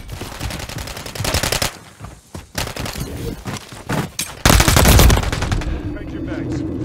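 Bursts of automatic gunfire in Call of Duty: Modern Warfare 3, loud rapid rattling volleys with gaps between them, sustained near the end, with a few voices heard under the shots.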